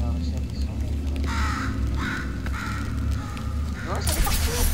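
A bird caws in the video game Portal 2, repeated harsh calls mixed with game sounds and a steady low hum, while a person talks over it.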